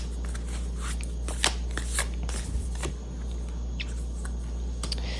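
A deck of tarot cards shuffled and drawn close up during a reading, producing a steady riffling rustle with a few sharper card snaps, and no talking.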